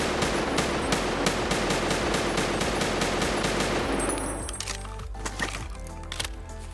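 ADAR rifle fire in Escape From Tarkov, a loud, dense stream of rapid shots that stops after about four seconds, followed by scattered clinks and quieter mechanical sounds.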